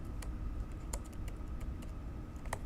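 Keys clatter steadily on a computer keyboard while a title is typed, a string of sharp separate clicks over a low background hum, with no voices.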